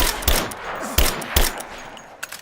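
Gunfire in the video game Rise of the Tomb Raider, with three or four loud, sharp shots spaced irregularly and a fainter pop at the end.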